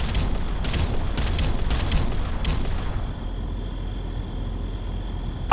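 Artillery bombardment in the real-time strategy game Ground Control: a run of loud, rumbling booms and blasts in the first three seconds, then a steadier low roar with a faint high tone.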